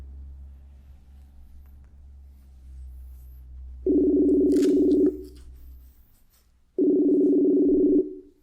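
An outgoing phone call rings through as two long, steady ringback tones separated by a pause, heard over faint background hum with no talking.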